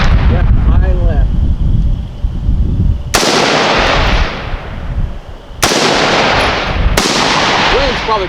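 Sharp, loud gunshots from a Matrix Aerospace AR-15 rifle crack at about three and six and seven seconds. Each is a broadband blast followed by a decaying echo. Quieter talk and outdoor noise fill the gaps between the shots.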